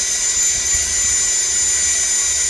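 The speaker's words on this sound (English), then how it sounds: "I've got the thimble clamped on. Got the gun in the vise. I've got my drill." A power drill bores through a gun part clamped in a vise, producing a steady, loud whine that holds continuously and close up with no talking.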